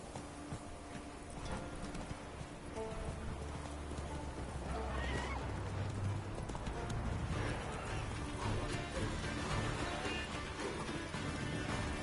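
Roach, Geralt's horse in The Witcher 3, neighs loudly over clip-clopping hooves, a drawn-out whinny rising midway through a steady bed of game ambience and hoofbeats.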